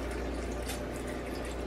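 Almond milk poured from a carton into a container in a home kitchen, a steady continuous liquid stream splashing close by with no talk.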